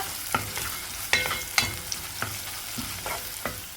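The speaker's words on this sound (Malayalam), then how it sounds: "വെളുത്തുള്ളി മൂത്തതിന് ശേഷം സവാള ഇട്ട് കൊടുക്കുക" Sliced onion frying in oil with browned garlic for an okra curry makes a steady close sizzle, punctuated by repeated spatula scrapes and taps against the pan at a loose, uneven rhythm, with no speech.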